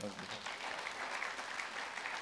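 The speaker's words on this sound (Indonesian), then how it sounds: "Tepuk tangan" A church congregation applauds during an evangelist's sermon, faint and distant, a steady wash of clapping with a voice heard briefly at the start.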